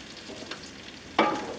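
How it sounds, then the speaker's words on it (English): Sausage and onions fry in a pan with a soft sizzle, then a sudden louder hiss as the food is stirred or moved, close and brief. "And we will just get this fried up."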